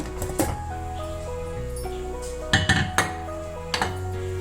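Pressure cooker of cooked jeera rice being opened: metallic clanks and clinks of the lid and pot, a few sharp knocks in the middle and again near the end, over a steady background hum.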